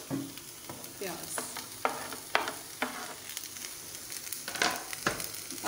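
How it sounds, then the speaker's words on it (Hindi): Cabbage, bell pepper, green chili and onion sizzle in a hot pan, with steady frying hiss broken by repeated scrapes and clatters of stirring, close and alone. "ये हमारी जितनी भी ये सब्जियां हैं ये फ्राई हो रही हैं"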